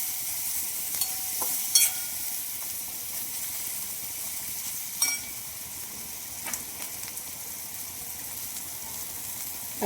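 Paneer bhurji with kasuri methi sautés in a pan, a quiet continuous sizzle under a few sharp scrapes and clinks of the spatula, near and without voices.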